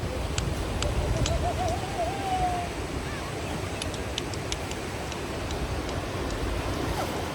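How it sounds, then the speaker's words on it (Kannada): Sea waves wash in along a shore at sunset, a steady broad roar of surf and water close by, with faint high bird-like whistles above it and no talking. "ನೋಡಿ ಇವಾಗ ನೀರು ಬರೋಕ್ಕೆ ಶುರು ಆಯಿತು"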